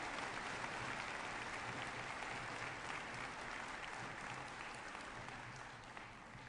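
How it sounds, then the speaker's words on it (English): A large audience at the opening ceremony of the CITES COP17 conference applauds, a thick, even wash of clapping heard from a distance that stays steady and fades slightly toward the end. "A very warm round of applause to our President."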